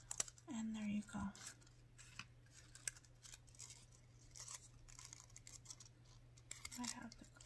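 Scissors snip paper while a paper flower is trimmed, a few crisp cuts near the start followed by soft scratchy rustling and handling noises, faint and close, with a quiet voice now and then.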